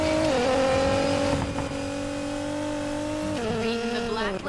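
Street racing cars in the video game Need for Speed Payback give a loud sustained engine roar with gear shifts and rising revs near the start and end.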